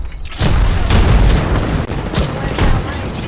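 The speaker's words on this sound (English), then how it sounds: "Throwing thermite grenade. Frag out. Look out, grenade." Loud, repeated explosions and gunfire-like blasts in an Apex Legends firefight, including frag and thermite grenade detonations, with booming hits over a dense, continuous din of battle.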